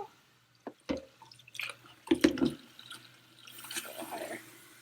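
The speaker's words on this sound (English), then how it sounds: "Turn the water on, and you're going to fill it up." Water from a kitchen tap splashes into a pitcher set over coffee grounds, with irregular drips and splashes that build into a steadier gurgling fill, fairly close and moderately loud.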